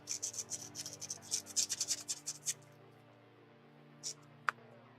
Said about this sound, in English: I'm going to sand that threaded part down just a little bit